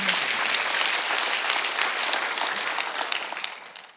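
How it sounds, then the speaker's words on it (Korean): A church congregation at a Sunday worship service applauds together in a loud, dense burst of clapping that carries on for several seconds before gradually thinning out. "박수 한번 해주세요"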